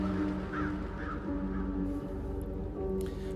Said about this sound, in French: Corbeau.